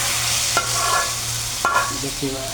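A tempering of garlic paste, cardamom and cumin fries in hot oil in a kadai: a constant sizzle with two distinct scraping stir strokes and a low background hum, no voices.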